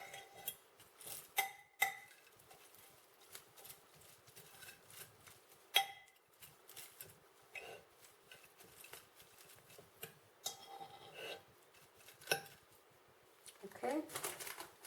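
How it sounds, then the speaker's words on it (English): Green bean casserole ingredients stirred in a bowl, with quiet scraping and clinking strokes in an uneven rhythm beneath a speaking voice. "I'm going to give that a good stir to make sure everything is nicely combined."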